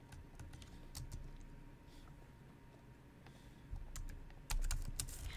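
Computer keyboard keys are pressed in scattered, irregular clicks, some sharper and louder than others, close up over a low background hum, with no voice.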